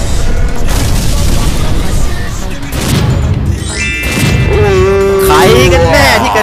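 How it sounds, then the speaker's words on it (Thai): Explosion set off by a single shot in a dinosaur-hunting video game, a loud booming crash amid dense game noise with other sound effects and tonal chirps rising toward the end. "โดนยิงดอกเดียวระเบิดหายไปเลย"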